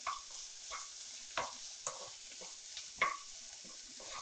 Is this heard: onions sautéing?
yes